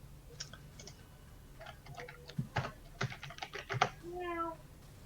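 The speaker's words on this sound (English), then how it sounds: "Yeah, we've got a cat here. I'm hearing random meows." A cat meows a couple of times in the background of a room, faint and brief, under steady clicking keyboard typing near the microphone.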